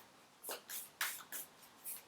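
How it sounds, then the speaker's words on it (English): Tarot cards shuffled by hand during a reading, five quiet, crisp riffling bursts in an even rhythm, close and faint, with no talking. "Let me give them a shuffle first."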